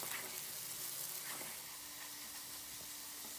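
Curry paste cooking in a pot gives a faint, steady hiss and soft sizzle with a few light crackles, quiet and even over a few seconds with no talk.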